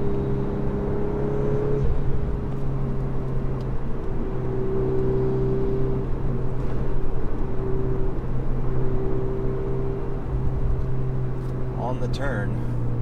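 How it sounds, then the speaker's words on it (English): A 2024 Volkswagen Golf R accelerating under throttle on a canyon road, a steady loud engine and road drone with a sustained tonal hum from inside the car, brief voice sounds near the end. "You can press the throttle."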